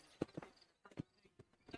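Horse hooves clip-clop on the ground in the Red Dead Redemption video game, a quick uneven run of soft thuds heard faintly and close.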